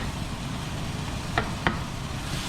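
Chopped garlic and a shallot frying in a pan at a camp cookout, a soft, steady sizzling hiss broken by two brief clicks of a utensil.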